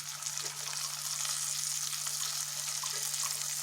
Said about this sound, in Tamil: இப்போ இதிலே இந்த மணத்தங்காளியை நல்லா வறுத்துடலாம்